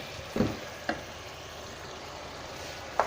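Minced meat frying in a pan with ginger and garlic for qeema matar biryani, a steady soft sizzle underneath with a few brief stirring clatters near the start and one near the end.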